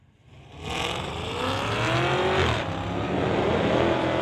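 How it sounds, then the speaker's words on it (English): A 2013 Cadillac CTS-V and a 1980 Chevrolet Malibu launch in a street-legal drag race, their engines roaring hard and loud, rising in pitch as they accelerate and holding a sustained, close, full-throttle drone. "Dusty Rhodes coming in from Surrey, driving the 2013 CTS V to go up against Jen from Maple Ridge, driving the 1980 Malibu."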